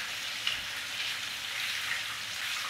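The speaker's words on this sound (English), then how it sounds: "just carry on frying the other pieces." Steady, dense sizzling of food frying in hot oil, close up and continuous with soft crackles and no talking.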